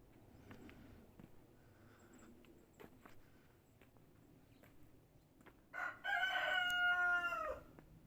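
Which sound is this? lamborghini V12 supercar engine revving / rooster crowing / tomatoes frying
rooster crowing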